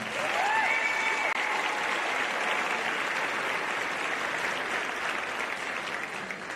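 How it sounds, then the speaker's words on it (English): Audience applause fills a high school graduation ceremony, a steady broad wash of clapping from a large crowd that holds throughout and eases slightly toward the end, with no talk over it. "Please, once again, give them a round of applause."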